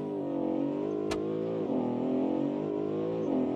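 A car engine revs steadily in the BeamNG driving game, a dense droning tone that rises and dips slightly, loud and continuous, with a sharp click near the start.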